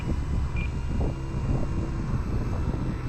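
Wind buffets the microphone in an aircraft near a low pass, a constant rough low rumble, loud and close, that fills the whole stretch without any voices.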